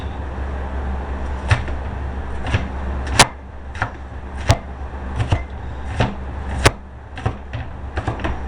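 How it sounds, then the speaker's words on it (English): A knife chops onions on a cutting board in irregular, sharp taps spread over several seconds, close and fairly quiet. "while we're chopping our onions"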